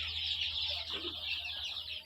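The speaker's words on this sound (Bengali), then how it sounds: "দেশি মুরগি টাইগার মুরগি মিক্সড করা" Desi and tiger chickens in a mixed farm shed keep up a continuous, dense chorus of clucking and chatter, moderately close, with a steady low hum underneath.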